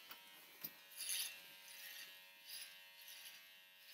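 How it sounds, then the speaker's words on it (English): Electric hair clippers buzzing faintly while shaving a head, a thin continuous hum with soft swells and a couple of small clicks as the blades pass over the scalp. "using these clippers, which I love"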